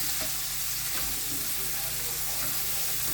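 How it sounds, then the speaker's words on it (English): Green onion and bacon sauté in a pan with a continuous close crackling sizzle, steady and fairly loud throughout, with no voices. "Get that sauteed in there."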